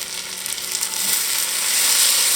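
Onions for French onion soup frying in a pan, a dense continuous sizzle that swells slightly louder toward the end, close up with no talking.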